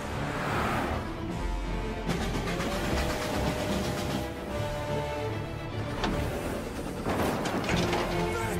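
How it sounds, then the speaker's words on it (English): A train passes in the Mafia video game, a loud, sustained rolling rumble with rail clatter that swells and fades over several seconds. "He's trying to beat the train."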